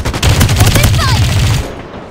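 Rapid automatic gunfire in the Farlight 84 video game, a loud, dense burst of shots lasting about one and a half seconds, with a faint voice under it, then fading.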